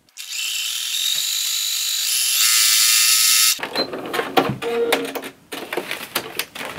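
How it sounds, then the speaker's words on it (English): A sewing machine stitches a jacket seam in a fast, even mechanical whir for about three and a half seconds, then stops, leaving fabric rustling and handling clatter. "So I'm going to take it back into the sewing machine and carefully lay it where it needs to go."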